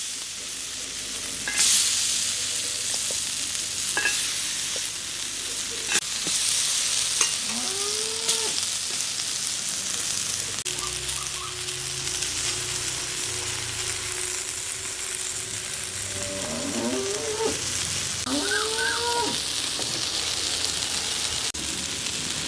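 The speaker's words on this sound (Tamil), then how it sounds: "மசால் தடவை நண்டை வச்சிடலாம் இது தோசைக்கல்லே ஃப்ரை ஆகும்போது சூப்பர் டேஸ்ட்டாக இருக்கும்" Masala-coated crab frying in sesame oil on a dosa tawa, a steady low sizzle throughout with scattered clicks and scraping as pieces are turned, no voices.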